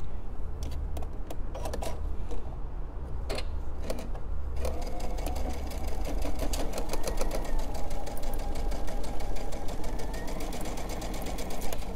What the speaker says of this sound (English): I'm just going to sew these two together so it becomes a big circle.